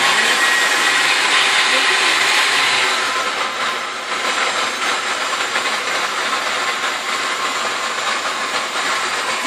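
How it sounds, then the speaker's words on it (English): A kitchen blender whirring with a loud, continuous high whine while blending a homemade candy sweet mixture, steady for the whole stretch with a small dip partway through. "Turn the blender on."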